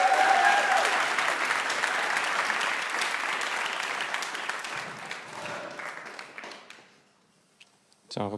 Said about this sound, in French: On applaudit Moustachio le ukulélé